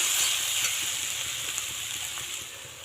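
Steady frying sizzle of vegetables in a pan, with a bright hissing texture, continuous and fairly close, slowly easing off a little toward the end with no voices.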